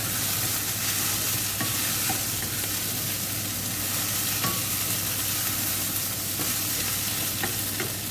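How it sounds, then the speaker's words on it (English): Green beans tipped into a frying pan of sausages and softened onions for a sausage and bean casserole, a steady close sizzle with scraping stirs and occasional clicks of the utensil against the pan. "I'm going to add my green beans."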